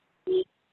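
A single short electronic telephone tone from a caller's line, about a fifth of a second long, sounding alone against silence.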